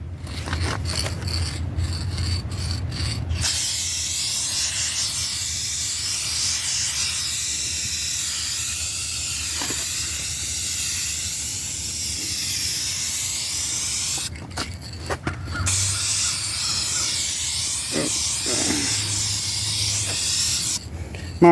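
Spray can applying silver metallic paint to a Kia Spectra front bumper, a close, steady airy hiss in long continuous bursts with short pauses between passes.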